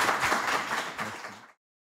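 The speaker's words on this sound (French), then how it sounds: "Tonnerre d'applaudissements." Audience applause at the close of a live talk show segment, a dense burst of clapping from a crowd that fades out after about a second and a half.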